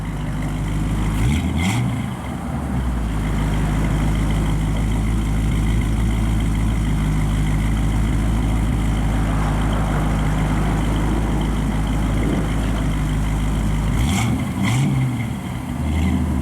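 A 1955 Chevrolet Bel Air idles through quiet dual exhaust mufflers, a steady low rumble that holds evenly for the whole stretch, near and unbroken, with no voices over it.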